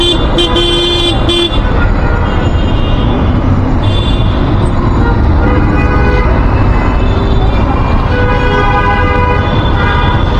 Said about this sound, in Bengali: চলে আসলাম আগ্রাবাদ মোড়, সবচেয়ে বিজি যে রোডটা